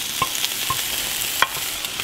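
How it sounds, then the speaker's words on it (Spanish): Peppers fry in a pan, with celery and carrot, giving a steady close sizzle broken by a few sharp clicks of stirring utensils against the pan. "En otro sartén vamos a freír los pimientos"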